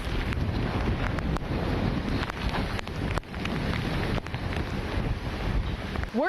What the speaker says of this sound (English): Look at these gusts.